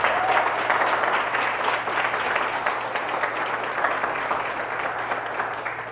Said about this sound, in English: Let's clap it up for Leah.